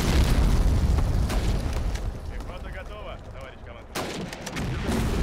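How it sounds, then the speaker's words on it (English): Anti-aircraft guns firing in the video game Hidden Stroke II at the Kursk tank battle, dense bursts of gunfire and booming blasts that rattle on continuously beneath a voice. "but we've got these anti-aircraft guns"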